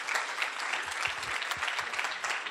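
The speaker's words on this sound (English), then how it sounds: "Give me just one more round of applause for Michael and Brian Baker while they come" Applause at a business breakfast award presentation as winners come up to accept: dense, continuous clapping from the audience, fairly loud and even throughout the short stretch.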